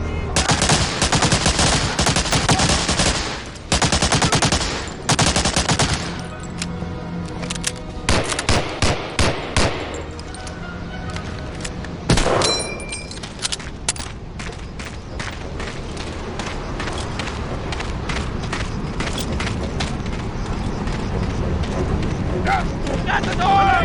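Gunfire in the World War II shooter Medal of Honor: Allied Assault, Arzew mission: dense automatic bursts and rapid shots, loud and close at first, then thinning into scattered sharp cracks amid battle noise, with shouting voices mixed in.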